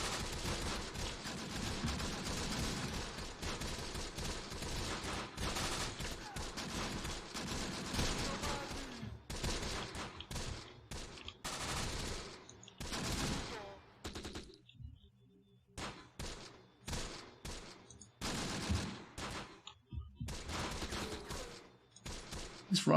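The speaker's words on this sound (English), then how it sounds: "They're all still firing." Gunfire in the WWII video game Close Combat The Bloody First, sustained rattling bursts of rifle and machine-gun fire, dense at first, then broken into separate volleys with brief quiet gaps.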